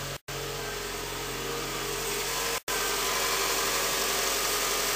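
2008 Toyota Scion engine idling after a cold start, a steady, close mechanical hum with two brief dropouts, no talking.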